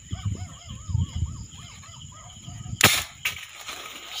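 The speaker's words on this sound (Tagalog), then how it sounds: "Unang putok." A homemade marble gun powered by paint thinner fires once with a sharp, loud crack, followed by a brief rattling echo, outdoors at night among soft background sounds and a warbling call.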